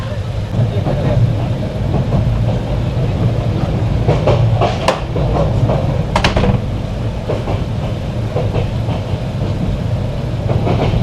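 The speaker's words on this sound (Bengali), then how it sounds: "আমার জীবনে আমি এই সর্বপ্রথম চট্টগ্রাম থেকে ঢাকার উদ্দেশ্যে সুবর্ণ এক্সপ্রেসে যাচ্ছি" The Suborno Express passenger train running on the Chittagong to Dhaka route, a loud, steady rolling rumble with sharp clickety-clack wheel clacks, heard from inside the train with a voice talking over it.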